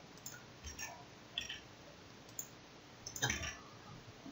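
A computer mouse clicks faintly a few times at irregular intervals while a circuit is set up in LTspice, including a small cluster of quick clicks near the end, over quiet background noise.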